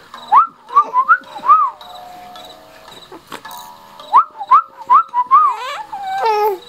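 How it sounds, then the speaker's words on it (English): A person whistles short rising notes in bursts with pauses between, ending with a longer sliding whistle, close by in a quiet room with faint background hum. "You like whistling?"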